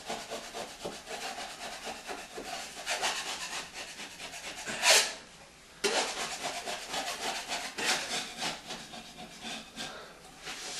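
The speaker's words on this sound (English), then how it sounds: "I'm going to scrape those edges off." A putty knife scrapes high edges off a drywall patch, a steady close rasping and rubbing that runs continuously with a brief pause near the middle.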